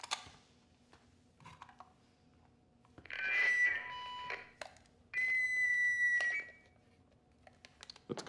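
An alarm system beeps in two sustained electronic tones, each lasting about a second or more, amid faint clicks and low background hum.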